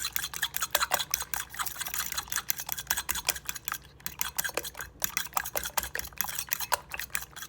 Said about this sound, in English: Now we're going to mix it real good.